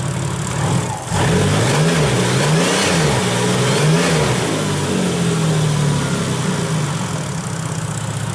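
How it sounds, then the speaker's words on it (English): A Toyota 2JZ engine swapped into a Nissan 240SX race car with a custom exhaust revs hard and loud. The pitch climbs and falls through several full revs over a steady rumbling idle. "So now it actually like fully revs."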